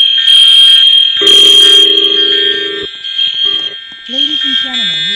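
A loud, steady electronic fire alarm tone blares in a Roblox school, continuous and close, with a spoken announcement heard over it.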